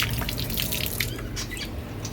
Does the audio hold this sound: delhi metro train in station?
no